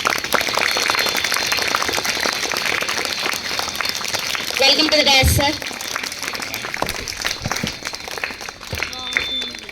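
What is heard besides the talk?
audience applause welcoming teacher to stage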